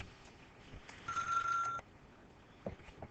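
A telephone sounds during a math lesson with a single short electronic tone of under a second, moderately loud, against a quiet room with faint background noise.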